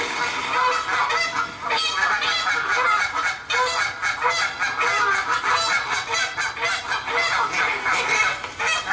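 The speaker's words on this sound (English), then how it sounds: "super fast, rapid cluck" Geese giving a fast, continuous run of clucking calls, loud and close, with no pauses between the rapid notes.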